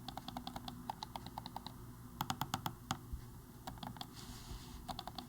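Logitech MX Master 3S mouse buttons clicked in quick, irregular bursts of soft, quiet clicks, close up over a faint background hum with no talking.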